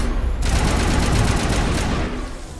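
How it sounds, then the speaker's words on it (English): Rockets fired at the player in Mass Effect Legendary Edition, a dense barrage of rapid blasts and explosions that bursts in loud, crackles continuously and thins out toward the end. "Shooting rockets at me."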